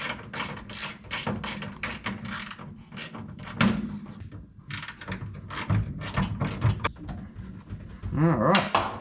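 A small socket wrench ratchets on a gauge bracket in a 1951 Chevy Fleetline during an air ride gauge swap, giving bursts of quick clicking under a man's intermittent speech.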